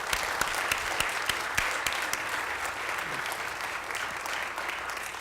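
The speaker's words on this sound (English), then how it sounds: "I wish that you'd give her a round of applause." Sustained clapping from the audience at a city council reorganization meeting, dense and even throughout with a few sharper individual claps near the start.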